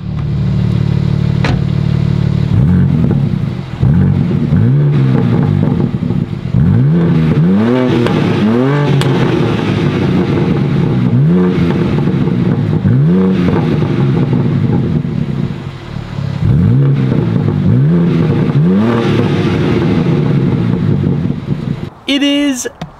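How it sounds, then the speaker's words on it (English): A car engine revving hard again and again, loud rising and falling roars in repeated bursts, close by, with a brief voice near the end. "Let's give you guys some revs real fast."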